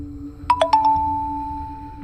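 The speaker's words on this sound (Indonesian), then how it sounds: "terdengar suara handphone si Salim berdering, yang pertanda ada pesanan masuk" A mobile phone ringtone plays a quick three-note chime followed by a sustained ringing tone that slowly fades, clear and close against a low steady hum.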